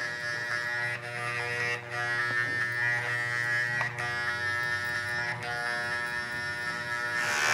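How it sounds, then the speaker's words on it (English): Electric hair clipper buzzing steadily at close range during a barbershop skin fade, a constant high whine with brief dips as the blade moves. "I'll take my clipper, put my one clip on, open it up all the way"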